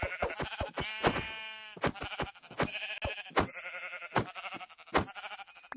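Sheep in a Minecraft-style video game bleat again and again, a run of sharp, close, loud calls with short gaps between them and no talking.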